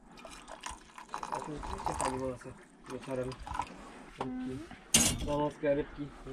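Instant coffee is poured into mugs outdoors at a forest settlement, with light liquid trickles and clinks mixed among people chatting nearby, and a sharp knock near the end.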